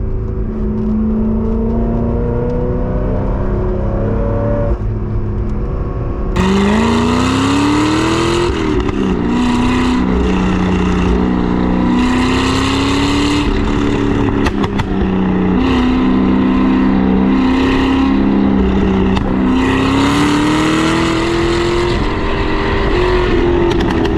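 Loud 2008 Chevrolet Corvette C6RS Pratt & Miller race car driving, a close, deep engine roar that rises and falls through repeated revs and gear changes from inside the car.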